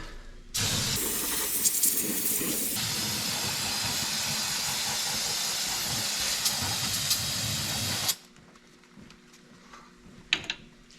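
Brake cleaner aerosol sprays onto engine parts in one long, steady, loud hiss lasting about eight seconds, then cuts off abruptly to a quiet room with a faint clink.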